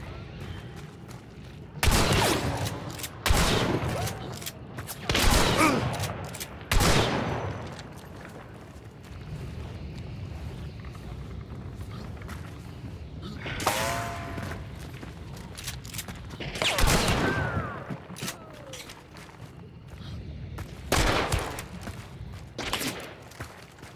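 Flechette shotgun rounds fire in Hunt: Showdown, loud booming blasts spaced irregularly several seconds apart, each with a short echoing tail over quieter game ambience.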